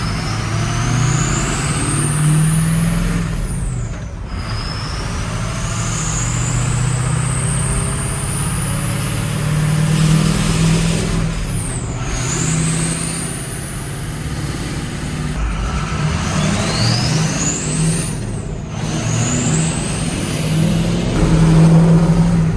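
A Ford F550 truck with a custom-built flatbed drives along with a continuous engine drone. Whining tones rise and drop repeatedly as it shifts through gears.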